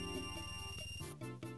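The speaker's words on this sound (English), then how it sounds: "he had a phone ringing now" A phone rings in a game session of The Legend of Zelda: Ocarina of Time, with a short, fairly faint electronic tonal ringtone repeating in quick bursts, and no speech over it.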